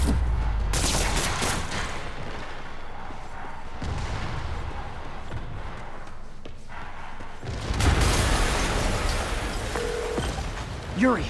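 Explosions and a barrage of gunfire from the video game Marvel's Spider-Man rumble loudly and continuously, with heavy blasts and crackling shots running under game dialogue.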